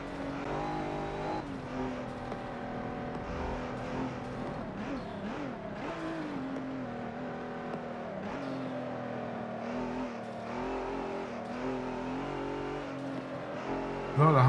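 Race cars in Forza Motorsport 7 roar side by side as one moves to overtake, a steady high engine drone with shifting revs and pitch sweeps, close and loud throughout.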